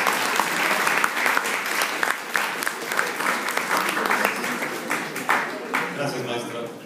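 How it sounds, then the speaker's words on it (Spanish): A lecture audience applauds a visiting scientist, dense sustained clapping at full strength that thins toward the end, with faint voices mixed in. "Por favor, les suplico un aplauso."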